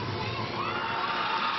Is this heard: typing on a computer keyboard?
no